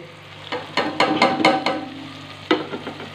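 Spices cooking into a tomato masala in a pan crackle softly under a series of sharp scraping stir strokes, a quick run of them followed by a pause and a few more, close and fairly loud.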